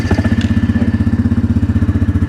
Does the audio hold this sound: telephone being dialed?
no